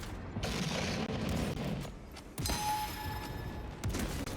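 A shrapnel grenade explodes in a first-person shooter game, giving a loud burst of crackling blasts and debris, followed by a second sharp explosive hit with a ringing metallic tail, all dense and close with no voices over it.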